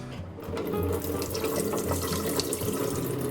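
Tap water running steadily into a container of soaking olives for brining, a close, continuous splashing rush with a low filling resonance.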